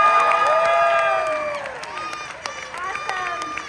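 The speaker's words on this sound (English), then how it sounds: "If you clap for all 4, let's all clap again." A crowd at a company's 20th anniversary event cheers and whoops loudly, with scattered clapping and raised voices blending into a steady, lively roar throughout.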